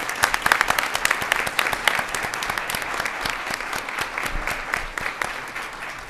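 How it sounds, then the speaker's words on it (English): An audience at a board of education meeting applauds, with distinct individual claps audible in a steady, moderately sized round that is louder at the start and tapers slightly. "let's give our young ladies a round of applause"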